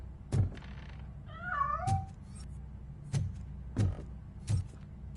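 A cat meows in the video game RoboCop: Rogue City, giving one clear wavering meow. It comes among several dull, evenly spaced thuds over a quiet background.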